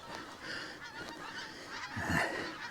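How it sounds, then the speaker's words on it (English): A flock of geese honks as it flies over a loch, several calls overlapping at moderate distance, with a louder burst of honking near the end. "Look at the geese."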